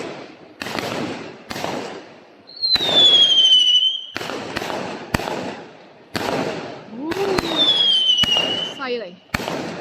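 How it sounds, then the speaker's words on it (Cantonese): A fireworks show at Double Moon Bay sends up whistling rockets that end in sharp bursts and booms, repeating several times, with excited onlookers exclaiming between and during the blasts. "煙花匯演啊！"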